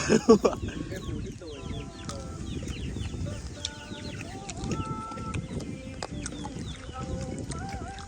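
Chickens being caught and handled at a rural Thai home, with scattered clucks and squawks over a busy background of people talking and movement.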